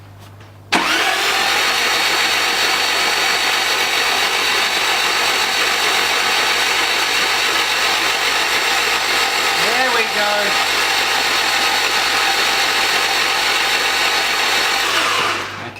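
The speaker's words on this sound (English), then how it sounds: "you could actually just hear the engine slightly change note when it picked up a bit of pressure there" Toyota Land Cruiser engine running steadily during an oil pressure switch test, a constant mid-pitched drone close by that starts abruptly, holds for about fifteen seconds with a slight change in note midway, then fades.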